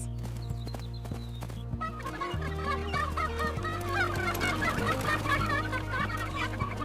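Farm chickens cluck and chatter in a busy mix over a steady low hum, several birds calling at once and growing livelier toward the end.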